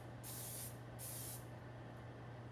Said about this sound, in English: Get a piece of 12 by 18 foil and spray it with non-stick cooking spray.